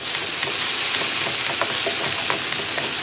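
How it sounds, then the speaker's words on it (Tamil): Ginger garlic paste sautéing in a pan for Chettinad pepper chicken, a steady close, loud sizzle and hiss with faint occasional stirring scrapes, no talking. "இஞ்சி பூண்டு பேஸ்டோட பச்சை வாசனை போகிற வரைக்கும் நல்லா வதக்கி விட்டுக்கலாம்."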